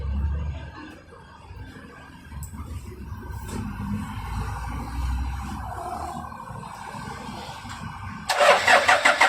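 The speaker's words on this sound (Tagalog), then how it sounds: "kailangan nating pandarin yung sasakyan" A car engine cranks and catches in a workshop during an aircon refrigerant recovery job. Low rumble and shuffling come first, then a loud, abrupt start near the end settles into a steady running engine.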